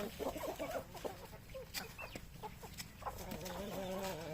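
Chickens clucking and chattering close by while eating, with soft scratchy pecking noises, busy and irregular, over faint background noise.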